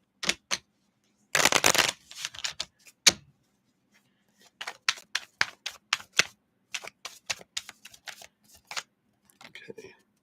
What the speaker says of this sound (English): let's shuffle these up here